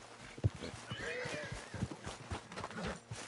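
Horse hooves clopping in the Red Dead Redemption video game, a few irregular thuds with a brief whinny, fairly faint beneath a man's speech.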